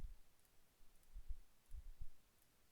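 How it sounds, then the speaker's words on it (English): Faint, soft mouse clicks come at an uneven pace while pet rerolls are clicked through in Bubble Gum Simulator, with quiet gaps between the clicks. "So just clicking through,"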